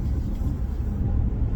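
A car drives along the road, giving a steady low rumble of engine and tyre noise heard from close by inside traffic, continuous for the whole moment with no talk.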